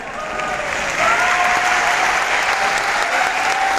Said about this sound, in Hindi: बात अच्छी लगे या ना लगे पर ताली जोर से लगे